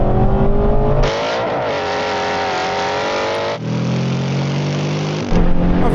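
Two Aston Martin Vantages, a GT8 and a GT4 race car, accelerate hard in a drag race, with loud, sustained engine roar and rising revs broken by sharp upshifts, close and powerful throughout.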